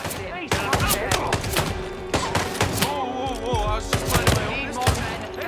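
Gunfire in Hitman 3, loud rapid shots and thuds in bursts mixed with game voices and talk throughout.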